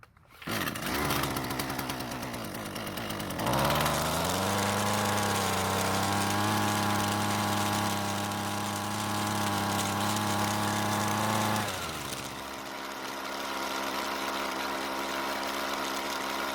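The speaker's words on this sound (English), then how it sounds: "So luckily the engine started and ran, but unfortunately it didn't stay running." A Husqvarna string trimmer's small two-stroke engine starts after a brief pull, settles into a buzzing idle, revs up into a loud high whine for several seconds, then drops back to a rough, unsteady idle, close and alone.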